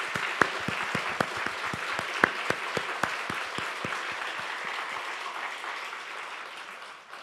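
A masked church congregation at a Sunday service claps in applause for several seconds, a dense spread of hand claps with a few sharper close ones, fading toward the end.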